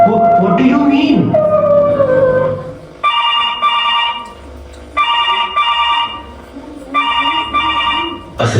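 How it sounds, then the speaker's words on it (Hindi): After a few seconds of talking, a telephone rings in three repeated bursts of bright trilling tone with short gaps in between, during a stage skit. "असिस्टेंट डायरेक्टर का फोन।"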